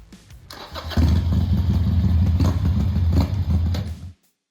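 A Harley-Davidson Iron 883 motorcycle engine starts and settles into a loud, steady, close idle with a deep rumbling pulse for about three seconds before cutting off abruptly into silence.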